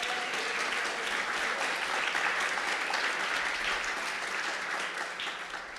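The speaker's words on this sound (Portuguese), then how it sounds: "Dê um aplauso ao Senhor Jesus." Sustained applause from a church congregation during a Pentecostal-style service in Goiás, Brazil, steady and dense clapping that fills the room for several seconds without fading.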